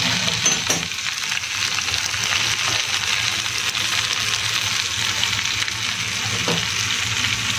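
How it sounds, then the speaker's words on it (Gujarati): Steamed mung bean dhokla tossed in a sizzling tempering, a dense, even crackle of frying that runs throughout, with a few soft scrapes of stirring near the start and no voices. "વચ્ચે વચ્ચે આ રીતે એને હલાવતા રહીશું"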